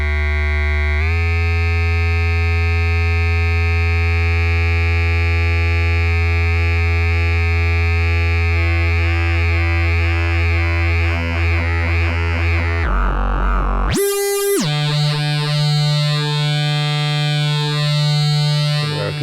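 An Instruo Cs-L synthesizer oscillator drones loudly and buzzily, its rich harmonic tone shifting and wobbling under LFO modulation, with a brief swooping jump in pitch near the end.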